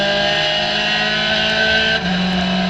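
An SRF3 race car at Hallett Motor Racing Circuit sounds as a loud, close, sustained engine drone under acceleration, with a brief dip and a shift in pitch near the end.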